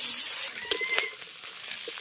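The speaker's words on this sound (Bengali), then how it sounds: "মাথাটাকে খুব ভালো করে ভেজে মচমচে করে ভেজে নিয়েছি" Hot oil sizzling steadily as a fish head fries crisp, with a few sharp clinks and scrapes of a utensil against the pan; no voices.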